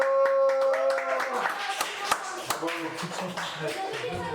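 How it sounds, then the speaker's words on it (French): A small group applauds itself after a dress rehearsal of a radio drama, starting just as a sustained tone fades; scattered, uneven claps follow one another at close range, fairly light, with a voice heard briefly. "On s'applaudit quand même."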